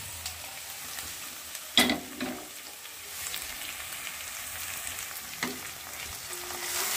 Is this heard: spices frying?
yes